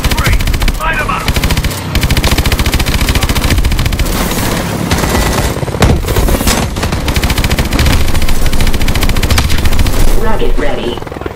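Sustained rapid automatic gunfire in Call of Duty: Advanced Warfare, loud and close, with dense machine-gun bursts running almost unbroken alongside explosions and battlefield noise.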